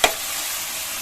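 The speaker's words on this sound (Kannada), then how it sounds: "ಈಗ ಒಂದು 5 ನಿಮಿಷಗಳ ಕಾಲ ನೀಟಾಗಿ ಎಣ್ಣೆಲೆ ಫ್ರೈ ಮಾಡ್ಕೊಳ್ಳೋಣ ತರಕಾರಿ ಎಲ್ಲವನ್ನು ಕೂಡ" Mixed vegetables with field beans fry in oil for vegetable saagu, opening with a sharp spoon scrape and then holding a dense, even sizzle.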